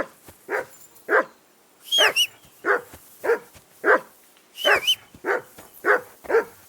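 A dog in Kingdom Come: Deliverance 2 barks about a dozen times in a steady, loud, close series, with a couple of higher yelping barks mixed in.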